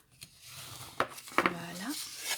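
Paper card base for a double Z-fold card being creased along its folds: close, quiet rubbing and scraping strokes with a few sharp taps and one drawn-out sliding squeak.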